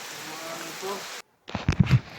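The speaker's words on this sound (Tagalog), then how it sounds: "Yan, umulan siya." Rain falls during a rough night fishing trip at sea, heard as a steady hiss that briefly cuts out, followed by uneven thumps and patters of drops striking nearby surfaces.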